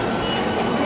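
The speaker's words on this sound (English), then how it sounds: "So, eto na yung train" A Seoul subway train arrives in a brief moment of steady, broad rumbling with no voices.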